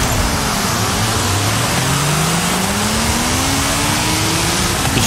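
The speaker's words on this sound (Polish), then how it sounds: "Widzicie, jak ładnie wystartowałem, cisnę gaz do końca." A NASCAR stock car launching at full throttle in a Forza Horizon 5 drag race, its loud engine roaring close and rising steadily in pitch as it accelerates, with no traction control.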